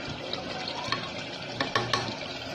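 Yogurt added to a haleem mixture frying in a pot, a quiet close sizzle with a few soft stirring scrapes and a brief wet splat near the end, with no talking.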